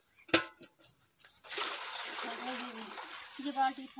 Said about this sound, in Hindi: तो मैं पानी टप में ले आई हूँ और बाल्टी में डाल